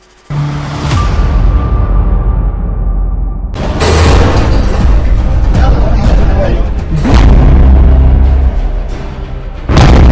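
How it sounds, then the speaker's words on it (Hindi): Pagers explode one after another across Lebanon in a series of heavy, sharp booms. Each blast is followed by a sustained roar, with several separate detonations spread through the stretch. "फिर एक एक कर पेजर में होने लगे ब्लास्ट।"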